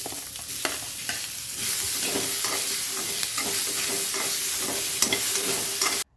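Onion and tomato masala for kaju butter paneer masala frying in a pan: a continuous close sizzle with frequent stirring clicks and scrapes, cutting off abruptly at the end.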